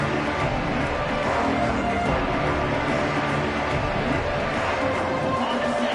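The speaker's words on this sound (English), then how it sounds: "this crowd is fired up. Listen to this noise here." A college football stadium crowd roars steadily after a kickoff, a dense, loud and continuous wash of cheering and noise with a commentator's voice over it.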